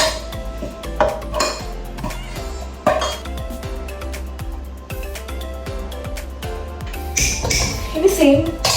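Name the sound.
remaining rice being added to the biryani pot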